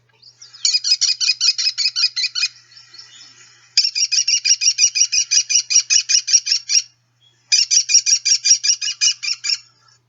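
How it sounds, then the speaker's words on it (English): A bird of prey gives a repeated high-pitched, rapid kitty-kitty call in three separate bursts of about a dozen notes each, loud and clear against silence. "It's a very kind of high-pitched, but not terribly high-pitched, kitty, kitty, kitty, kitty, kitty."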